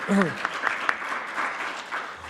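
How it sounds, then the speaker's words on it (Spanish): Audience applause at a talk on marriage jurisprudence, scattered sparse claps under a voice speaking, fairly quiet and thin rather than a full ovation. "Muchas gracias por estos aplausos de esperanza"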